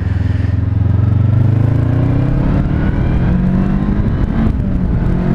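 A Honda CB500X motorcycle engine revs hard under acceleration, a loud steady drone rising in pitch and holding strong for several seconds without voices.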